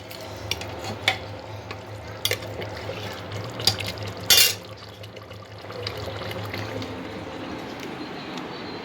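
Beef and potato chunks being stir-fried in a pan, with a steady low sizzle under scraping and stirring clatter from a spatula, plus a few sharper knocks along the way.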